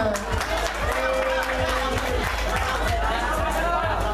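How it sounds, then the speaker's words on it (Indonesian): Clapping from an audience at a school arts performance, mixed with crowd chatter and nearby voices, the hand claps coming in a loose, repeated rhythm throughout. "tepuk tangan semuanya"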